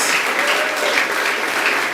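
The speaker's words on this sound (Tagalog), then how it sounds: "Malakas sa palakpak para kay Lord" Church congregation claps in sustained applause praising the Lord, a dense, even burst of many hands lasting the whole moment without speech.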